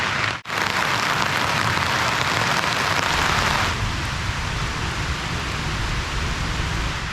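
Steady rain drums on a tarp shelter in calm, windless weather, a dense continuous hiss that is louder for the first few seconds, then eases slightly and carries on evenly with no voices.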